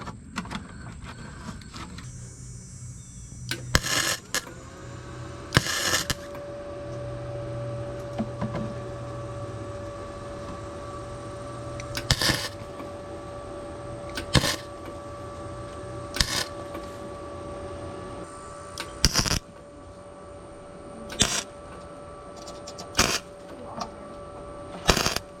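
An Arccaptain MIG160 budget MIG welder tack welds thin car body metal, a series of short, sharp crackling bursts spaced irregularly over a quiet background hum.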